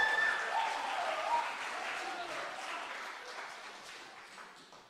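A church congregation applauds during a Sunday service, steady dense clapping from many hands that swells briefly near the start and then slowly fades over the few seconds, with no voices on top.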